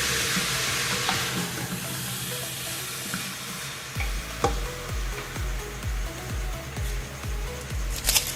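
Chicken filling with chopped bell pepper, green herbs and scallions sizzles steadily in a pan, with repeated scraping knocks of a spoon stirring it close up and no talk.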